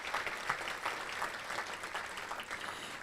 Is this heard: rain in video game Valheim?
no